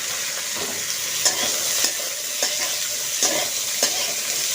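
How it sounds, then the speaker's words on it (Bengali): Chopped vegetables for moong dal frying in a pan, a loud, steady hiss of sizzling oil broken by regular scraping strokes of a stirring spoon about every half second, no speech. "এবার এটাকে একটু ভালো করে ভেজে নেব"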